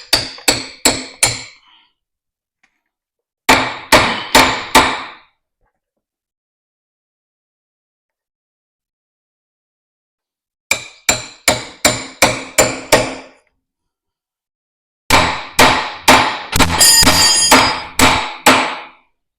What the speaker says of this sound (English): send a chisel into here to try and open it up a little bit